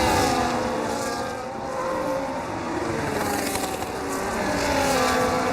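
Race car engine in the SFRL racing video game at the Japan round, a steady high-pitched drone that swells and fades slightly as a car sweeps past, with no talking over it.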